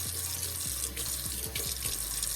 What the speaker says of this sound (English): I'm gonna water it in pretty good.